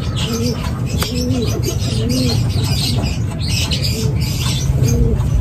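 Several racing pigeons in a Los Baños, Laguna loft give repeated soft coos and a few short chirps, close by and continuous over a constant low hum and rustling.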